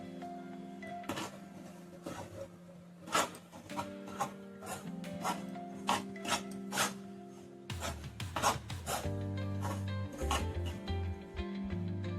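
Fine semolina is roasted and stirred in a pan over a low gas flame, producing rhythmic scraping strokes close by, each a short rasp, over soft background music.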